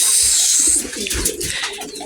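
Pigeons coo softly in low, throaty bursts nearby, with a thin high whine fading out early and faint background rustle.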